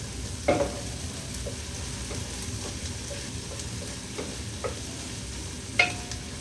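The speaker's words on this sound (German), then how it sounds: "jetzt tue ich hier einfach noch die Zwiebeln etwas anrösten" Onions sautéing in a pan for beef roulades, a low, steady sizzle with a few sharp clicks and scrapes of a utensil against the pan, close and moderately quiet.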